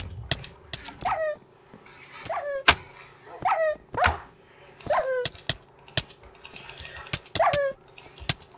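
Minecraft video game dog (tamed wolf) sounds during a survival games match, with repeated bark-like yips and a steady stream of sharp clicking game effects; no one talks.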